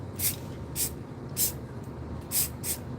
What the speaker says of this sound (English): Getting crazy with the spray paint now, y'all.